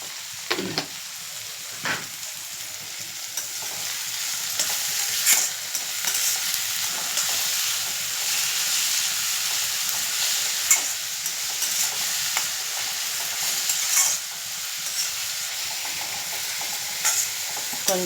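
Egg fried rice being stir-fried in a pan, steady sizzle throughout with repeated scraping and tossing clicks of a spoon against metal, close and continuous with no voices.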